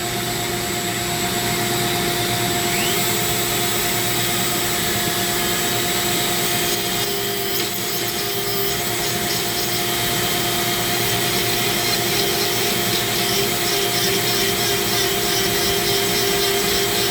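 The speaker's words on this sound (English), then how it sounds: "This is sucking that down into my shop vac." A Dremel with a 1/8-inch shaft carves zebra wood as a shop vac roars steadily close by, the high grinding whine and vacuum rush blending into a loud, continuous drone with no talking.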